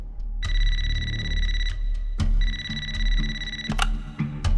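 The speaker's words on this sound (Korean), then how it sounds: "한 직원이 걸려온 전화 한 통을 받습니다" An office telephone rings in repeated electronic bursts, two tones trilling with short gaps between rings, close and clear, over a low background hum.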